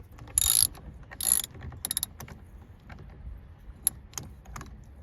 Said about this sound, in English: I'm using a 3/4 ratchet with a 1/2 inch adapter and a 15/16 socket